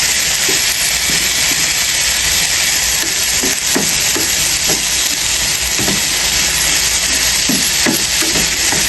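Ground pork giniling frying in a pan, a steady loud sizzle and hiss throughout with occasional stirring clinks and scrapes, close up and with no talk.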